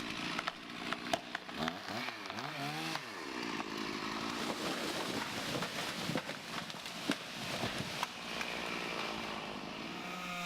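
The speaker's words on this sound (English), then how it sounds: "He's cutting into the tree" A chainsaw cuts into a large tree on a steep hillside, revving up and down in loud, wavering bursts with woody crackles and snaps and a running idle between cuts.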